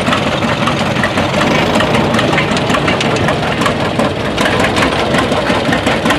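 A 1953 Farmall Super M tractor pulling a 214 plow at a plow day runs steadily close by, its engine giving a continuous low, chugging rumble with a rough, knocking throb and no voices over it.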